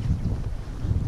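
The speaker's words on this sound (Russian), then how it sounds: "потому что ветерок, он все-таки есть здесь." Wind gusting outdoors along the Portuguese Camino pilgrimage route, a steady low rumble of air buffeting the microphone that stays close and fairly loud throughout, with no voices.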